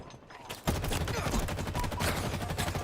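Rapid gunfire from a Halo multiplayer match erupts after a brief quiet start and then keeps up as a dense, loud, continuous volley of automatic shots.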